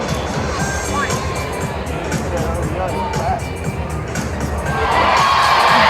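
An audience at a SeaWorld show in Orlando fills the space with a dense wash of cheering and crowd noise, including children's voices, that swells louder toward the end.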